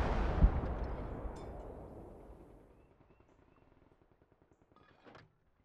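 A heavy artillery gun in the World War II game Gates of Hell fires once with a deep booming blast that rolls off into a long fading rumble, followed by a faint mechanical clank near the end.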